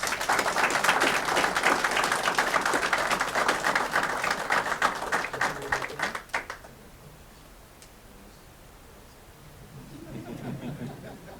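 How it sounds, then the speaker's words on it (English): Room full of people applauding an officer's promotion to police sergeant, brisk close clapping for about six seconds that stops abruptly, followed by quiet and faint murmuring voices. "Let's all give him a round of applause, please."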